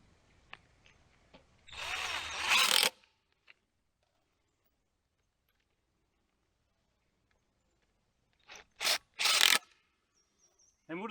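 Outdoors in a garden, a power drill drives small fasteners in two loud bursts, one longer whir early and a cluster of short whirs near the end, separated by quiet pauses.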